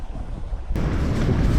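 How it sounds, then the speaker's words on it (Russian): Strong mountain wind in Uzbekistan roars across the microphone, a steady broadband rumble that jumps louder partway through and stays buffeting, with no voices. "В общем, такой вот ветер поднялся, прям сильный."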